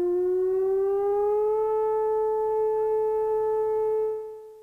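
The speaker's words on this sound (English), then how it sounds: "This siren located on Central Road is the closest one to Middle Road" An outdoor civil defense tornado warning siren on a rural Alabama road sounds a loud, steady wailing tone that rises slightly in pitch, holds for several seconds and then begins to fade, with nothing else audible.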